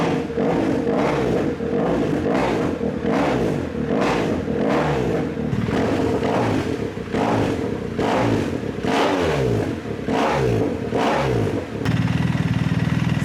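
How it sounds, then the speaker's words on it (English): A BMW R1300GS motorcycle fitted with Black Widow stainless exhaust headers idles loud and close while warming up, its engine note surging and pulsing in a steady rhythm, with a slight change in tone near the end. "I'll give the bike a second to warm up a little bit"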